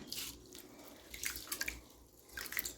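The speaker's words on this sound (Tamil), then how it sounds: "இப்போ நம்மளோட அரிசியை நல்லா களைஞ்சாச்சு பாருங்கள் நல்லா கழுவி எடுத்தாச்சு" Rice is rinsed and washed in water in a home kitchen, with quiet splashes and dripping in a loose, irregular patter, close but faint and without speech.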